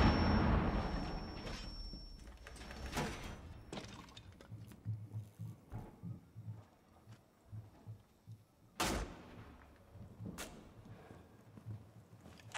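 Sharp gunshots crack in a Rainbow Six Siege match, one loud report standing out among scattered footsteps, impacts and shuffling sounds.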